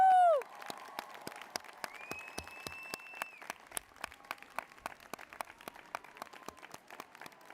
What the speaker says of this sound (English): Let's stand up, let's cheer them on.